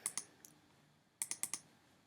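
A few quick computer mouse clicks while editing in iMovie: a pair of sharp taps, one faint click, then a rapid run of four, close up in a quiet room with no talking.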